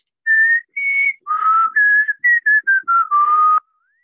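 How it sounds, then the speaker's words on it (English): A person whistles a short melody, about ten clear notes in a row, close and alone. "or maybe I whistle."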